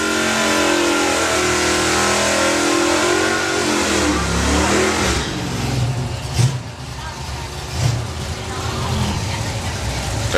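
Chevrolet El Camino with a 383 cubic inch engine launching down a drag strip, a loud roaring pull that climbs through the revs, then recedes and fades into distant engine noise and crowd sound.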